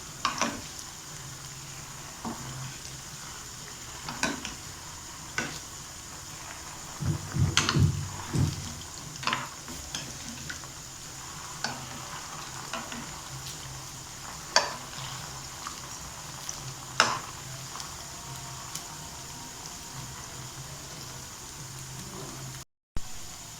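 Susiyam, a sweet made from chana dal, sizzling softly in a pan of hot oil, with scattered pops, crackles and occasional stirring or turning sounds over a steady low fry.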